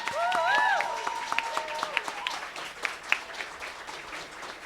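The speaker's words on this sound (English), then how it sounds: "giving a big, warm round of applause" Audience applause at an International Day of Peace award ceremony, a moderate spread of hand claps from a crowd with a voice briefly heard over the start, fading toward the end.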